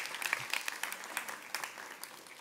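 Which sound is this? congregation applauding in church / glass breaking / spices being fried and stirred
congregation applauding in church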